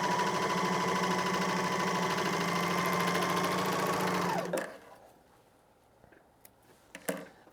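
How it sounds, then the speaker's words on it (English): A serger overlock sewing machine finishing a raw fabric edge runs steadily and close for about four seconds with a fast mechanical whir, then stops, leaving a few soft handling clicks. "serger or overlock machine."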